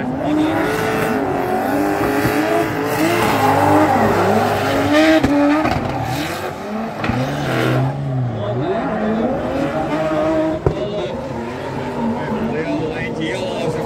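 A BMW fitted with a Mercedes engine drifting at a drift festival in Daugavpils, its engine note rising and falling loudly and continuously under a commentator's voice and crowd ambience.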